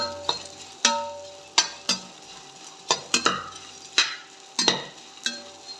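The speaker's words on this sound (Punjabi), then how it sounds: "ਹੁਣ ਆਪਾਂ ਗੁੰਦਾਂ ਨੂੰ ਫਰਾਈ ਕਰਦੇ ਆ ਲਓ ਜੀ ਆਪਣੀਆਂ ਗੁੰਦਾਂ ਵੀ ਫਰਾਈ ਹੋਣੀਆਂ ਸ਼ੁਰੂ ਹੋ ਗਈਆਂ" Edible gum (gond) fries in a pan for panjiri, stirred with about ten irregular, close scraping strokes over a soft sizzle, with no voices.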